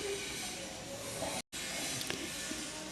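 A cabbage omelette fries in a pan with a steady close sizzle and hiss, continuous throughout apart from a brief cut near the middle.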